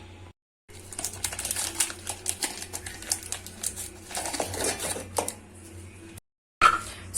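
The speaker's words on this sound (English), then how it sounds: "So I'll start putting it in the grinder" An electric grinder pulverising Oreo biscuits into powder, a steady motor hum under dense rattling and crunching that runs for several seconds, stops briefly and then starts again.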